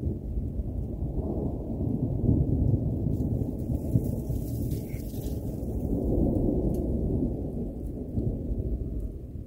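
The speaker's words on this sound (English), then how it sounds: "That's thunder." Thunder rolls low and long during a snow squall in Buffalo, a deep sustained rumble swelling and fading across several seconds with no voices.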